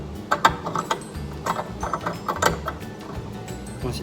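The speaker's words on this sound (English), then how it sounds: "turn it clockwise until you hear it click in" Plastic clicks and ratcheting ticks come from a headlight bulb being twisted clockwise into its housing on a 2014 Ford Fusion, a close series of short, irregular snaps with no one speaking.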